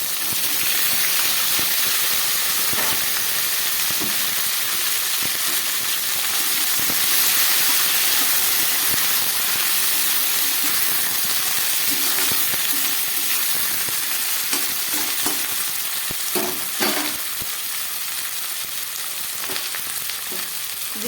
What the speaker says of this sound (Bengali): আলু কুমড়ো আর পেঁপেটা ভালো করে ভেজে নিলাম এবার দিয়ে দিচ্ছি সজনে ডাটা